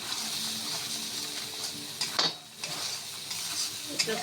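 Spice paste with red chilli powder frying in a pan for a vegetarian shahi dish, a steady sizzle with light stirring scrapes and a brief dip in the middle before the frying noise resumes.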